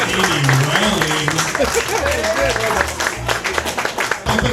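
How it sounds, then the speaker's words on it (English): Audience applause and clapping greet comedian Amy Rowling at a stand-up comedy show, a sustained mix of claps and crowd noise filling the room with a voice talking over it. "I'll put a round of applause."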